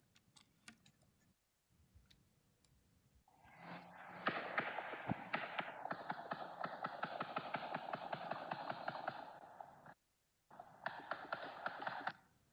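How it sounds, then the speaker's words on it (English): Rapid, dense bursts of gunfire, roughly 20 shots in 8 seconds from a semi or fully automatic weapon, crackle as a fast continuous string of sharp reports, briefly pausing before another short volley, heard from a distance. "that was roughly 20 gunshots in 8 seconds, maybe in excess of that"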